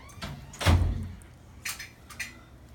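A door closes with a solid thud nearby, followed by a few softer knocks and rattles in a quiet room.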